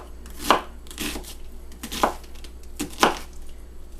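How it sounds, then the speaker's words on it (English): A knife chops through an onion on a cutting board: four crisp, evenly spaced strikes about a second apart, close and clear with no talk. "2 halves of the onion, and then North Pole to South Pole I cut."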